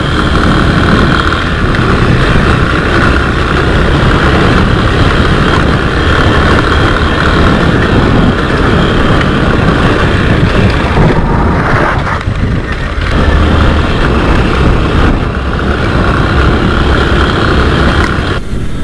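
A continuous, loud motor drone runs steadily throughout, a rough engine rumble with no speech, from a Honda XRE 190 motorcycle riding along a dirt test track.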